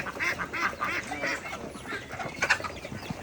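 Peking ducks quack busily while they feed, a run of close, nasal calls overlapping one another in quick, uneven succession.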